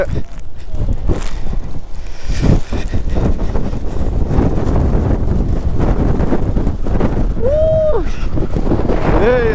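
Loud, relentless wind gusts batter the microphone on a rainy monsoon motorbike outing in Chikmagalur, a dense roaring rumble filling the whole stretch with a person speaking briefly under it.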